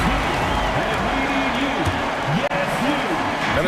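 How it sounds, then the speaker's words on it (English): Crowd applause fills an arena in a basketball video game, a steady wash of clapping and crowd noise with a commentator's voice talking over it throughout. "Please give a big round of applause for your Bulls."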